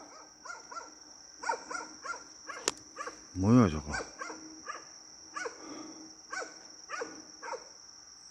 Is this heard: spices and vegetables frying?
no